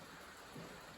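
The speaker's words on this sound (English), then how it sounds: "that noise you're hearing is the rain bouncing off my tin roof there and dripping down on everything else" Rain bounces off a tin roof and drips onto everything below, a faint, steady hiss that lasts only a moment with no voices.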